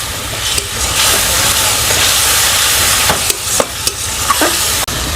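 Water added to a pan of hot masala with turmeric and salt for a lemon katla kalia, giving a steady loud hiss and sizzle with occasional stirring clicks and scrapes, no talking.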